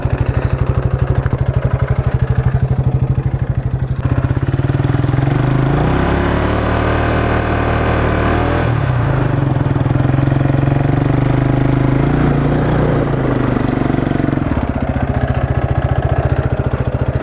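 An ATV engine running loud and close, a steady mid-pitched drone that rises and dips in pitch as the throttle shifts while pushing through mud, continuous with no talking.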